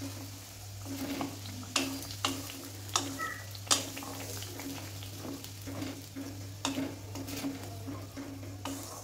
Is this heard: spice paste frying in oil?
yes